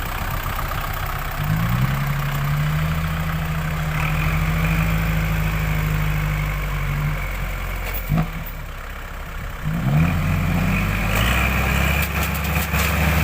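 Heavy diesel engines of a tractor and a dump truck stuck in mud idle and rev, a steady low rumble with two rises in pitch as the throttle is opened, close and loud with no talk.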